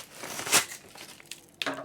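Paper and cardboard packaging crinkle and rustle during an unboxing of a Rode Wireless Go microphone for iPhone, with a sharp crackle near the middle and a second burst of crumpling toward the end, fairly close and alone.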